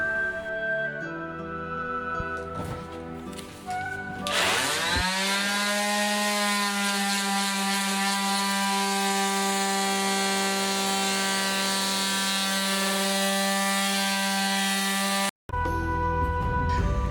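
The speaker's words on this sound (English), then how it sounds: "Most of the sanding was done with electric sander." An electric sander works a wooden window frame, its steady motor whine rising after a few seconds and holding loud and close with a dense buzzing drone, briefly cutting out near the end before restarting.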